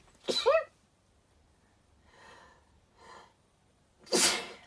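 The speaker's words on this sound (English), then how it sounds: "I am just going to sneeze, excuse me." Two sudden, loud sneezes close to the listener, one at the start and one at the end, with soft breathy sounds in the quiet gap between.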